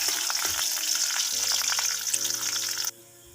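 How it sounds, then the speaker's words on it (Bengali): Chopped garlic fries in hot oil in a pan with a loud, steady sizzle throughout. The sizzle cuts off sharply near the end, leaving a low hum. "তারপরে একটি পাত্রে তেল দিয়ে এখন আমি কয়েকটা রসুন কুচিকে ভেজে নিব।"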